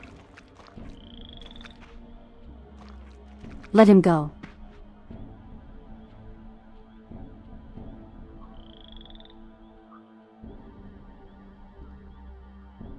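A frog croaks once in a swamp area of the video game Soul Reaver 2, a short, loud burst over quiet game ambience with a few soft chirps, while someone talks over the scene.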